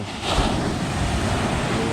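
Ocean surf washes steadily at a beach, a broad rushing noise with wind buffeting the microphone, continuous and fairly loud throughout.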